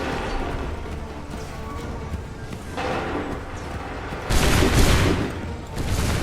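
A musket volley in Assassin's Creed III, with scattered shots and a crowded battlefield din building into a heavier, louder burst of gunfire near the end.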